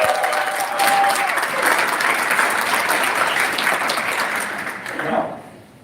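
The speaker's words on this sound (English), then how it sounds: "round of applause for Mr. Downey." A Melbourne audience gives a full round of applause for Mr. Downey, thick, even clapping holding strong for about five seconds before quickly tapering off to quiet.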